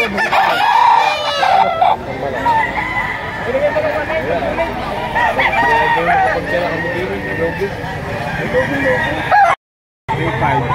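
Busy poultry market in Lipa, Batangas, with a rooster crowing among clucking chickens, someone speaking over the constant noise.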